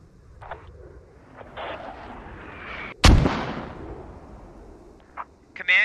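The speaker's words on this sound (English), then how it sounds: "here comes Londart's mortars. Londart's throwing a full volley" Mortar rounds in the military shooter Squad land as a volley: one heavy, close boom dominates the middle, with smaller distant thuds and cracks of game combat scattered before and after.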